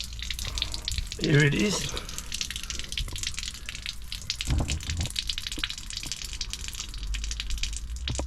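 Water gushing steadily out of a caravan water tank, a continuous splashing flow with a brief louder burst, while a person speaks briefly over it.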